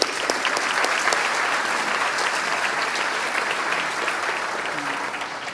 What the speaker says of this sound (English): can we give those public servants a round of applause?